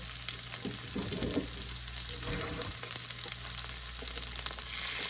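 Dried salted fish (tuyo) frying in a pan, a steady, close sizzle and crackle with some scattered pops and a soft stir, continuous for the whole stretch with no voices.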